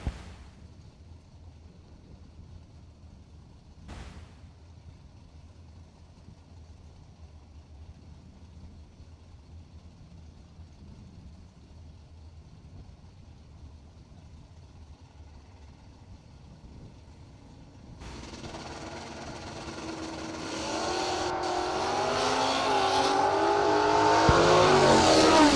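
At a drag race, a 1969 Plymouth Sport Fury and a Kawasaki motorcycle sit through a long, near-quiet stretch with a faint low rumble before engines erupt and roar louder and louder toward the end.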